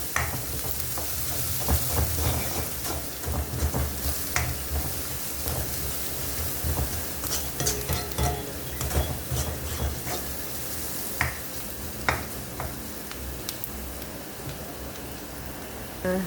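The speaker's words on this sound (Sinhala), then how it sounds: "අපේ ලුණු ටික දැන් හොඳට බැදිලා තියෙන්නේ." Onions fry steadily in a hot pan for home cooking, a continuous close sizzle and crackle with occasional scrape and stir clicks from a utensil, with no talk.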